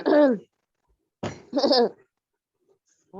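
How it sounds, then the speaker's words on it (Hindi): Several harsh coughs in quick bursts, close and loud, with short silences between them. "किसको बहुत ज्यादा खांसी आ रहा है?"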